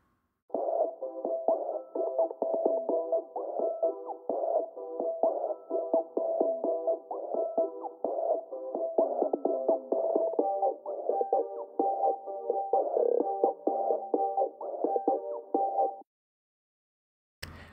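An 808 drum beat with its snare, band-limited to the low mids, plays as a continuous muffled, boxy rhythmic pattern of punchy hits for about fifteen seconds before stopping abruptly.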